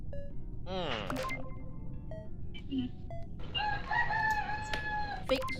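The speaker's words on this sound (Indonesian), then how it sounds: "Ayam siapa wah itu? Ayam siapa woi?" A rooster crows once, loud and fairly close, its long rising-then-falling call standing out over a busy background hum, with other bird chirps and faint voices around it during an Among Us gaming session.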